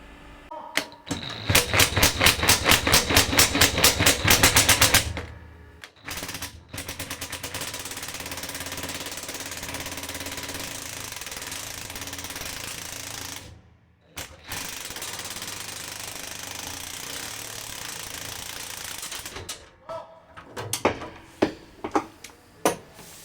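Power tool, likely an impact wrench, removing eight bolted nuts from underneath a 5.5 tonne machine, giving a loud rapid hammering burst followed by long steady whirring runs and short final rattling bursts, close by.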